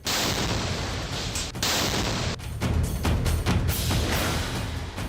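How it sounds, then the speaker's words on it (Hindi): A bomb hidden in a flag pole explodes at the Israel–Palestine border in 2018, heard as a loud, continuous roar of booms and crackling with only brief dips throughout. "जैसे ही वो फ्लैग पोल को जमीन पर रखता है, एक जोरदार धमाका होता है"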